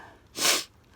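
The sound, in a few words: sniffling from a cold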